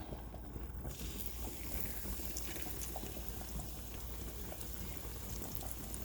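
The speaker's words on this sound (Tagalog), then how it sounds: "Ngayon naman ay piprituhin natin." Breaded food coated in breadcrumbs and flour frying in a pan with mashed potato on the side, giving a steady, dense crackling sizzle that stays loud and even throughout with no talking.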